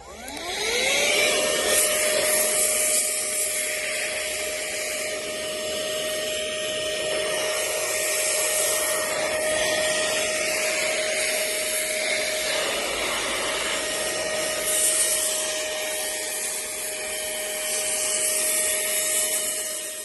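Cordless air duster blasting dust out of a laptop with its normal nozzle, a steady high-pitched motor whine with rushing air that spins up quickly and holds at a constant pitch, fairly close and alone.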